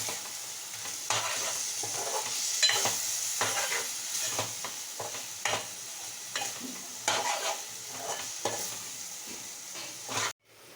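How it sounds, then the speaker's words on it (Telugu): Eggs with amaranth leaves and garam masala are stirred in a hot pan for egg bhurji, a continuous sizzle broken by repeated scraping strokes of the spatula, fairly close, ending in a sharp clatter. "గరం మసాలా వేసుకొని ఎగ్స్ని మనం బాగా కలుపుకోవాలి."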